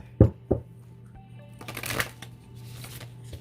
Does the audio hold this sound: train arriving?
no